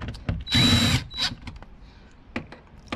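A power drill drives screws into a car door speaker on a Porsche Macan S (95B): one short, sharp whirring burst, a quick second blip, then faint clicks and handling noise.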